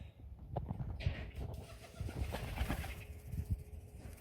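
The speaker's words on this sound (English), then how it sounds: "There's a pigeon in my garage." A pigeon inside a home garage gives soft, close cooing calls, mixed with light rustling and thumps and a low background rumble.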